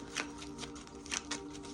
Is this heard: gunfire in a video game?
no